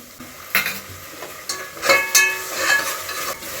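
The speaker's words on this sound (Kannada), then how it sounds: "ಇವಾಗ ಒಂದು ಟ್ವೆಂಟಿ ಸೆಕೆಂಡ್ಸ್ ಚೆನ್ನಾಗಿ ಈರುಳ್ಳಿ ಫ್ರೈ ಆಗಿದೆ ಒಂದು ದೊಡ್ಡ ಸ್ಪೂನಷ್ಟು ಶುಂಠಿ ಬೆಳ್ಳುಳ್ಳಿ ಪೇಸ್ಟ್ನ ಸೇರಿಸ್ಕೊತಾ ಇದ್ದೀನಿ" Onions frying in a pan with a big spoonful of ginger garlic paste added, heard as a soft sizzle under repeated scraping and clanking spoon strokes against the pan, no speech.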